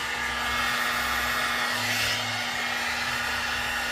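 A heat gun blows a steady, even hiss of hot air close by while shrinking heat-shrink tubing over a soldered butt splice, with no talking.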